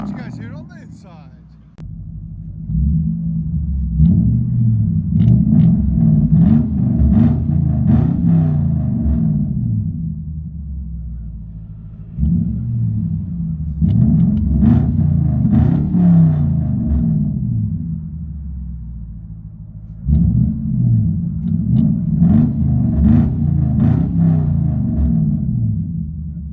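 Deep V8 rumble from a 2002 Lexus LS 460 4.6L with true dual straight pipes, heard from inside the cabin as three long swells of revving separated by brief dips, loud and close.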